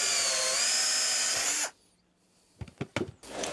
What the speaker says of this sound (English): Drill a 25mm hole in the bottom of the charger in the middle.